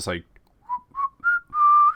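A voice whistles a series of short, rising beeps and chirps imitating the Star Wars droid R2-D2, like a little robot chattering, ending on a longer held tone.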